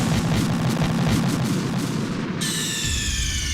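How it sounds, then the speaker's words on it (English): In the video game Metal Gear Solid 2, a loud booming gunshot hits at the start and its low rumble rolls on for about two seconds before a sharp electronic tone cuts in. "I was scared that the guard would have heard the gunshot"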